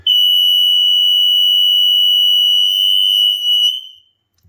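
A piercing, steady high-pitched smoke alarm test tone sounds continuously for nearly four seconds, loud and close, then cuts off abruptly.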